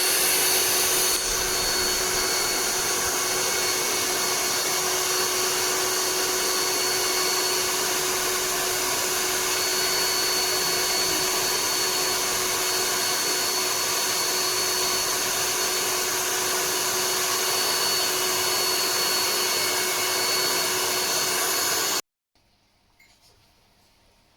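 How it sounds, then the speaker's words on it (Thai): Vacuum cleaner running inside a Nissan Juke car interior, a loud steady whine with constant motor tone lasting over twenty seconds before cutting off abruptly. "ดูดฝุ่นทำความสะอาดภายในรถให้นะคะ"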